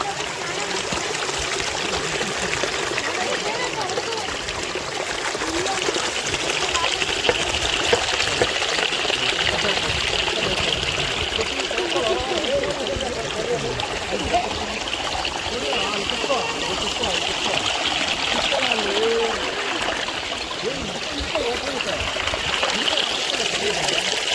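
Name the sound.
flowing mountain stream water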